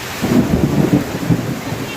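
A Kalbaishakhi thunderstorm brings heavy rain to a village in Faridpur, Bangladesh, with deep rolling thunder rumbling low and loud over a steady rush of rainfall throughout.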